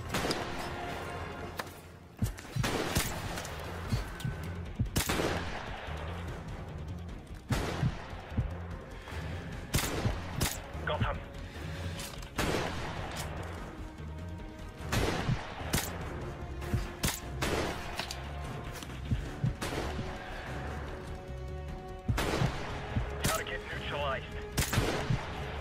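Repeated rifle and automatic gunfire in Call of Duty Modern Warfare Remastered, sharp close bursts recurring throughout amid a dense combat soundscape, with voices speaking over parts of it.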